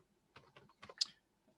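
Names being typed on a computer keyboard in a quiet room: a few short bursts of clustered key clicks with brief pauses between them, fairly faint.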